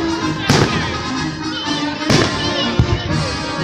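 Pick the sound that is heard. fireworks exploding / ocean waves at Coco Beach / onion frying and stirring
fireworks exploding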